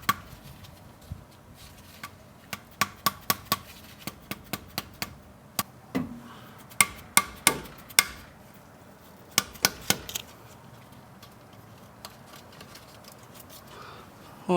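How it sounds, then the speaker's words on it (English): A small hammer gives a series of light metallic taps while a bushing seal is driven in during a Toyota Tacoma repair, the sharp clicks coming singly and in short bursts, close and moderately loud. "Take my little hammer."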